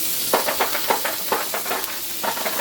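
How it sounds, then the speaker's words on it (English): Garlic sizzling in butter in a pan for a shrimp and cheese omelet, a loud, steady hiss with bursts of crackling spitting throughout. "I have some garlic right here that I'm going to add to the pan."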